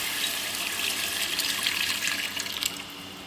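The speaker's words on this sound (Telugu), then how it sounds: "ఇంక చింతపులుసు పోసుకుంది." Tamarind juice pouring into a pot of fish curry, a steady liquid stream heard close and continuous, with no talking.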